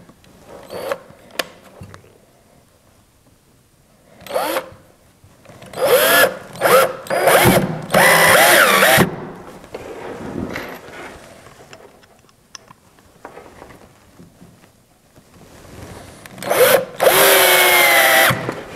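A power drill drives 1¼-inch coated exterior screws through metal corner braces on a wooden double gate, in several separate loud bursts of whirring and spinning with quiet pauses between them; no one talks.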